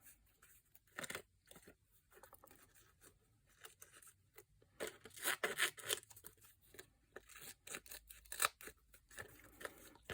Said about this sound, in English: And then cut around your bit of card.